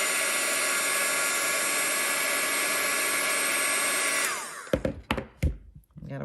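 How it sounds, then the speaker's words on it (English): A two-speed heat gun blows hot air over craft materials in a steady, loud, broadband rush for about four seconds, then cuts off into a few scattered handling knocks. "Our heat gun has two different speeds, so if you want to go faster,"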